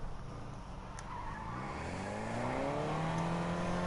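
A race car in Fortnite drives on the Montreal F1 circuit, its engine note rising steadily as it accelerates, with brief tire squeal at the start, heard close and alone.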